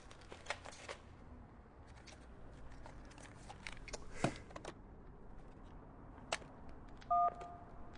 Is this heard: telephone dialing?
yes